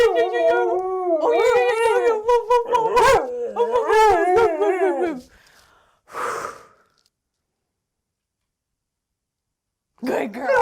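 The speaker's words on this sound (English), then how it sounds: "You can see that she's basically howling at me" A female dog howls and whines close by in long wavering, rising cries for several seconds, followed by a short huff and then near silence before another brief whine.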